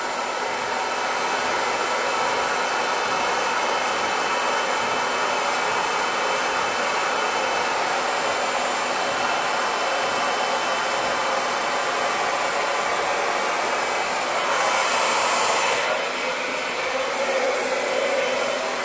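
A hair dryer blowing on the root area of sectioned hair during a bob haircut, a loud steady whooshing blast that runs unbroken, with a brief shift in airflow near the end.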